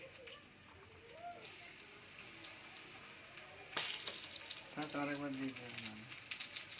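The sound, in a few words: food frying in a pan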